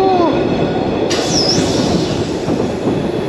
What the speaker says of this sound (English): That was not me, that was the train.